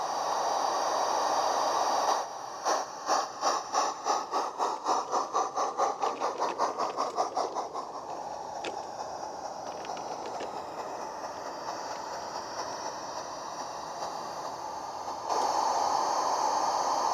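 Narrow gauge passenger train hauled by ex-Southwold Railway Sharp Stewart 2-4-2 locomotive No. 5 Tarporley arriving at a model station, with rhythmic clickety-clack of wheels over rail joints that fades into a steady hum.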